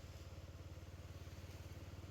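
A motorcycle engine runs at a steady pulsing throb while riding on Saint Martin's Island, a low rhythmic chug that is faint and continuous with wind-like rushing noise over it.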